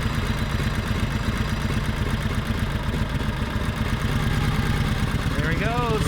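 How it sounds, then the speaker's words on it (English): Small engine idling steadily up close with a raised idle as the rider pulls away smoothly, a constant rumbling drone with a faint whistling sound near the end. "you bring the idle up a little bit and you take off real smooth"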